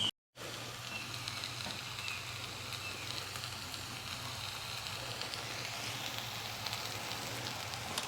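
Food sizzles steadily in a pan on an outdoor cook setup, a continuous crackling hiss heard close up, with faint birdsong in the background and no talking.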